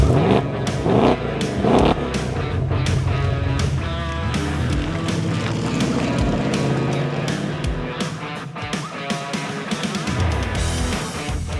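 A 2025 Ford Mustang GT Fastback's V8 engine with automatic transmission revs and roars steadily while driving, with gear changes and bursts of acceleration, loud and close throughout.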